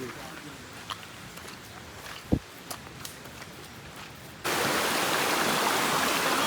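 A few soft knocks and footsteps sound over quiet ambience, then a loud, steady rush of a flowing forest stream starts abruptly and continues.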